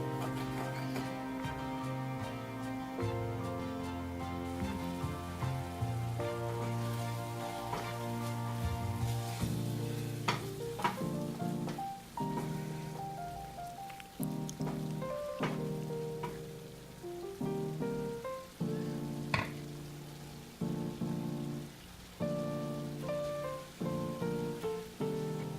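Masala powders and onions cooking in a pan for goat liver fry, a soft continuous sizzle running under melodic background music for the whole stretch.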